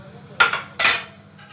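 A spoon strikes breakfast dishes twice in a home kitchen, two sharp, bright clinks about half a second apart, close and clear against a quiet background.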